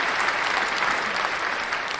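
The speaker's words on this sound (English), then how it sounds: "we're going to give that a clap because it's a big deal" A crowd applause sound effect, a thick, even wash of many hands clapping at moderate volume for a couple of seconds with no voices over it.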